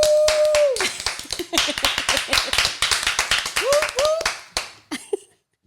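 A small group of people clapping in quick, uneven bursts, sharp individual claps close to the mic, with voices and brief laughter mixed in before the clapping stops abruptly near the end.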